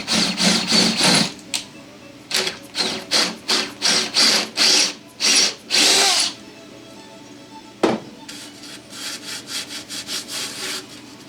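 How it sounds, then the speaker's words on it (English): A power drill bores a large hole through wood, giving a series of rhythmic rasping bursts, each lasting under a second, followed by a single sharp clunk and then quieter, fainter grinding strokes. "What I sometimes do is spin the drill bit backwards for a couple seconds to help with the tear"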